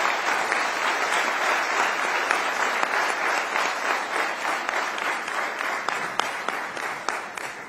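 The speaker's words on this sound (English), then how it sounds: "Audiences, I think she deserves a big round of applause." Studio audience at an interview with Finance Minister Nirmala Sitharaman gives sustained applause, dense and steady clapping that holds at a constant level, then slowly tapers.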